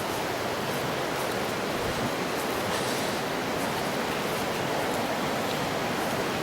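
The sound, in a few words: river water flowing, River Earn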